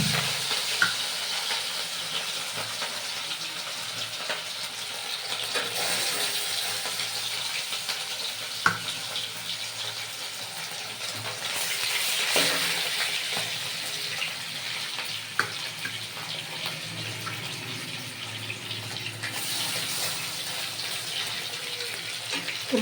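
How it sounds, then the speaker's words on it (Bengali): Pieces of rohu fish fry in hot oil in a wok, giving a continuous bright sizzle with scattered sharp pops and occasional swells of hissing, close and fairly loud, with no talking. "তো প্রথমে আমি রুই মাছগুলো ভেজে নেব"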